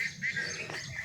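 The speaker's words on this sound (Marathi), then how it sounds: "पक्ष्यांचे आवाज येत आहेत" Birds calling among green trees in a quiet village forest area, a few short chirps and tweets heard faintly at a distance over soft ambient noise.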